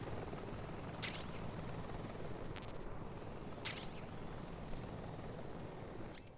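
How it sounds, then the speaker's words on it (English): A helicopter in the Metal Gear Solid Delta video game, heard as a faint, steady distant rotor drone with occasional sharp transient clicks and no talk over it. "Oh, there's our helicopter friends."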